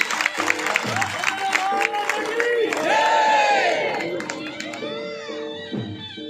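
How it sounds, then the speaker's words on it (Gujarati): A crowd at a Sonal Maa birth anniversary celebration held by the Charan community in Jamnagar bursts into sustained applause and cheering, with shouting voices rising to a peak midway before slowly tapering off. "તો એકવાર ગગુભાઈ માટે અને ભાજપ પરિવાર માટે જોરદાર તાળી."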